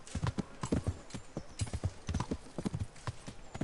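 A horse's hooves clip-clop in the Kingdom Come: Deliverance video game, a quick, steady rhythm of hoof strikes on hard ground, close and clear, with a faint whinny.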